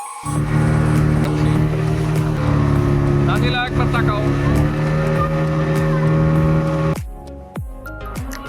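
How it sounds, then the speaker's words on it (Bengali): A loud, steady speedboat engine drones with a deep humming pitch for several seconds, then cuts off, leaving quieter rumbling and wind. "এরপর আমরা স্পিড বোটে উঠি যাত্রাটা ছিল অসাধারণ"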